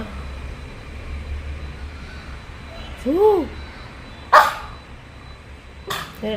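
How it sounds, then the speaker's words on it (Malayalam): Two dogs bark outside, one short bark rising and falling in pitch, followed by a couple of sharper sounds against low background noise; a voice is heard faintly. "അപ്പോൾ അവരവിടെ വന്ന് നിന്ന് കുരക്കുന്നുണ്ട്"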